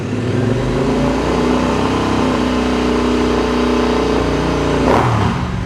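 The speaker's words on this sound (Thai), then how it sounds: "รอบเครื่องยนต์นิ่งครับผมไม่มีสะดุดแน่นอน" A steady, even engine drone from a 2022 Royal Enfield Interceptor 650 motorcycle idling close by with no stumbling, and a brief knock near the end.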